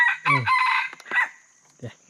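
A rooster crows once in a long, clear cock-a-doodle-doo near the camp in a forest, followed by a short clucking call, close and distinct against quiet surroundings.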